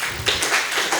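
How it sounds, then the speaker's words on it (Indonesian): Thin, half-hearted clapping from a studio audience, a few uneven claps overlapping briefly at moderate loudness with no voices on top. "Kok tepuk tangannya terpaksa?"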